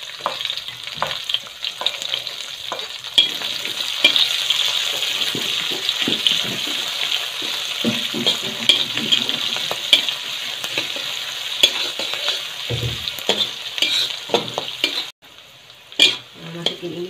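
Chili peppers being stir-fried in a pan for a taro stem dish, a steady close sizzle with stirring scrapes throughout, briefly dropping out near the end before resuming.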